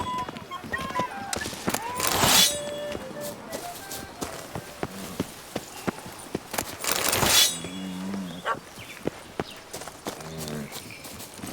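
Horse hooves clip-clop in The Witcher 3 as the horse Roach walks and trots, a run of sharp, uneven hoof strikes close by, with a character's voice and bursts of other game sounds mixed in.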